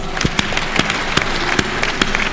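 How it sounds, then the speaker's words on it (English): Graduation audience at the University of Eastern Africa Baraton clapping for a graduate, a scattered, uneven patter of individual hand claps at moderate volume, with no voices. "Let's keep on clapping for her."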